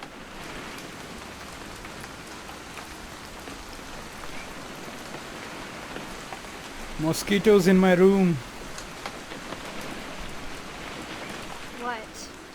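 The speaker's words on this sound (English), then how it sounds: "It's gonna rain the whole weekend," Steady rain falls continuously in the video game What Remains of Edith Finch, a dense hiss of drops on surfaces, with a brief spoken line rising above it partway through.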